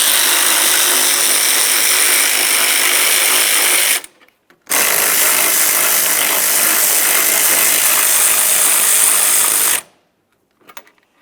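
A power tool drives out the two 12mm bolts holding the washer reservoir of a 2003-2011 Mercury Grand Marquis: a loud steady whirring run of about four seconds, a brief pause, a second longer run, then faint clicks.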